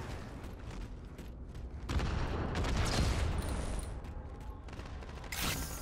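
Multiplayer gunfire on the Lockdown map in Halo MCC, a Slayer battle-rifle match, with a faint run of rapid shots that swells in the middle and trails off, with no talk over it.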